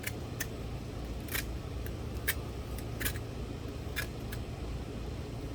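An Al Mar SERE 2000 combat knife slices through material in a string of quick, crisp snicks at irregular intervals, fairly faint over a steady background hiss.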